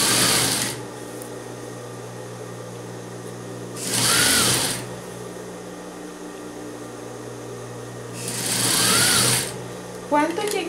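Sewing machine stitching fabric to cover a cushion, heard in two loud bursts of rapid whirring, each about a second long and separated by several seconds, with a steady low hum of room noise throughout.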